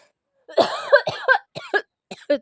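A person coughing hard, several hoarse, voiced bursts in quick succession, close and loud against otherwise silent surroundings.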